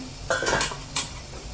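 A metal steamer pot set over boiling water clanks and clinks a few times in quick, close handling knocks, then settles.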